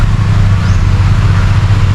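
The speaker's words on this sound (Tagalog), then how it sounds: "Ah, yun ang dump truck oh." A heavy dump truck engine rumbles loudly and steadily nearby as it passes, a deep, continuous drone throughout.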